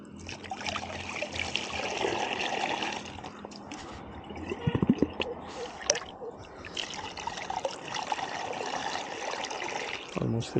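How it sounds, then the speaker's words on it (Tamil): Water pours and trickles into a large bottle during refilling, a continuous gurgling stream with splashy bursts midway, faint and close, with someone talking over it. "அது ஊற்றுற சவுண்டு, அது இப்போ ஆப்ஸ்டிக்கல் தாண்டி உள்ளே போகுது பார்த்தீங்களா"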